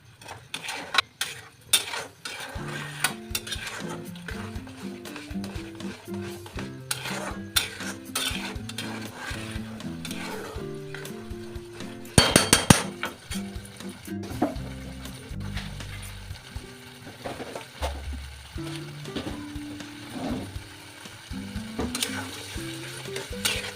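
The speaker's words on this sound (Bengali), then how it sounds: "এবার মটরশুঁটিটা ঢেলে দেবো। মটরশুঁটিটাকে দিয়ে এবার আমরা একটু কষাবো।" Peas for mattar paneer frying and being stirred in a pan, with irregular clinks and scrapes of a utensil against the metal over a low sizzle, close and moderately quiet, with no one speaking.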